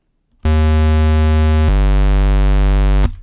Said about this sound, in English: Then pitch it down by 2 octaves and select a square.